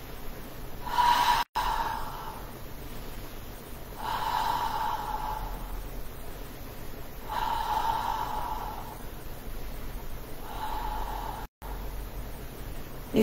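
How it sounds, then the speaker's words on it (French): Slow deep breathing during a beginner Pilates warm-up, four long audible exhalations through the mouth, each lasting about a second and a half, spaced evenly with quiet pauses between, close and fairly soft. "On va faire quelques respirations."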